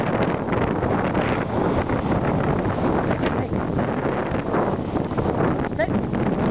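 Steady wind by a river outdoors roars continuously into the microphone as a broad, loud rush with no pauses.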